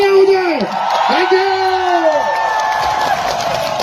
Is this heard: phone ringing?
no